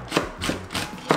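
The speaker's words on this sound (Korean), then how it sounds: "이렇게 다져줄게요." Knife mincing Cheongyang and red chili peppers on a cutting board, four crisp chopping taps in an even rhythm, close and alone.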